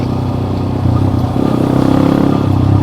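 A TVS MAX 125 custom scrambler motorcycle engine runs close by with a rhythmic low putter, rising slightly in intensity partway through as the throttle opens a little.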